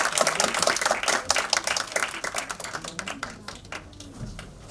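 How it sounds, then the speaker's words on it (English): Audience applause during a memento handover at a college department alumni meet, with dense clapping strongest at first and then thinning into scattered claps toward the end, with no talk. "everyone please applaud while they do that"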